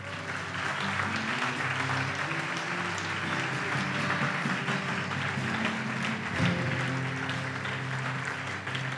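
Church congregation applauding together, a dense, steady wash of clapping that holds evenly from start to finish at a moderate distance, with a low sustained tone beneath it and no clear voices.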